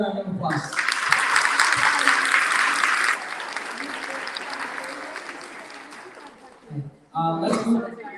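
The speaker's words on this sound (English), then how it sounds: "Let's give him another round of applause." A burst of audience clapping at a children's graduation ceremony rises after a brief voice, holds for a few seconds, then thins out before speech resumes at the end.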